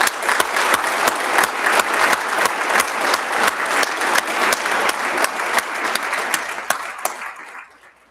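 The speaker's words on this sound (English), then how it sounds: "One more round of applause for the graduates." A graduation crowd gives dense, steady applause for the new graduates, loud and continuous before fading at the end.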